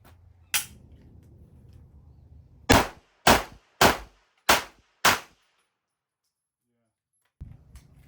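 Gunshots ring off steel targets at a shooting range: one loud close crack, then five evenly paced shots with a metallic clang and short decay, followed by silence and faint background noise.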